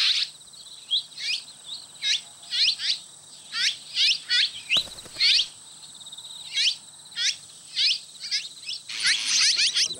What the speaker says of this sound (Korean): 물까치입니다.